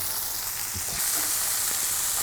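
Lion's Mane mushroom steaks fry in oil in a pan with a steady, close hiss. The sizzle grows louder partway through as more oil goes in, and no one talks.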